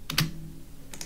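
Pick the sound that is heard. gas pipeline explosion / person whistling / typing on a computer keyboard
typing on a computer keyboard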